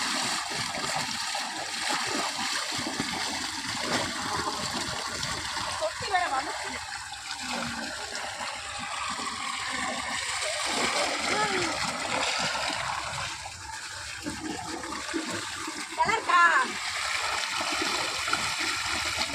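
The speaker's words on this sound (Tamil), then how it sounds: "இது மாதிரி தொட்டியில் குளிக்கிறதே ஒரு தண்ணி சுகம் இல்லை செம்மையாக இருக்குல்ல" Someone bathing in an outdoor water tank, water splashing and sloshing steadily with a continuous running-water wash throughout, close up, while people talk over it.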